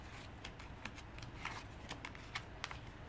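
Tarot cards being shuffled for a reading, a run of soft, quick papery riffles and flicks close by, fairly quiet and steady, with no talking over it.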